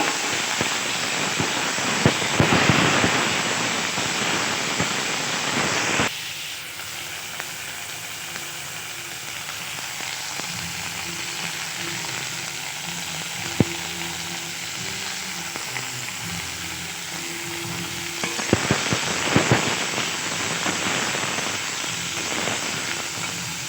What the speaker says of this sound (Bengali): এইবার শিমটা ভেজে নেব